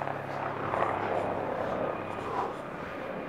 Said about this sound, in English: It's all go today, we've got a chopper going overhead.